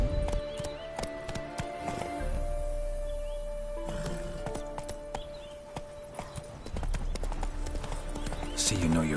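Horse hooves clip-clop steadily in The Witcher 3, with a whinny at one point, set against game music and speech throughout the clip.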